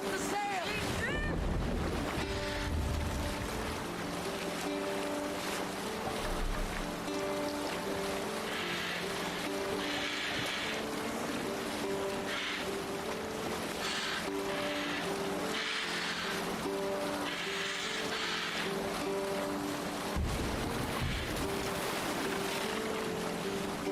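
Sailboat moving across ocean waves in the video game Destiny 2, with steady wash of water and wind hiss running throughout alongside tonal game music, and brief low bumps near the start and end.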